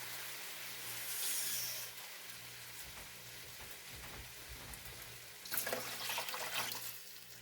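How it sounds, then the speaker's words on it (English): Tap water runs softly into emptied sauce cans, a faint continuous splashing with a couple of brief louder gushes, no voices. "I'm going to take 2 of the cans of sauce and fill them up with water."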